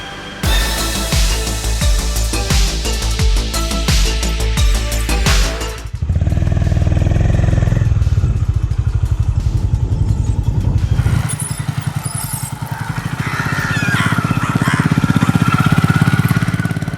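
A Royal Enfield Meteor and a Honda H'ness CB350 running one after the other, a thumping single-cylinder idle with steady beats giving way to a louder, deeper rumble that swells and revs, close and loud with no talk.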